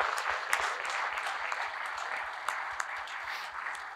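Sustained applause from an audience at a leadership talk event, a dense, even wash of many hands clapping that runs steadily throughout at moderate distance.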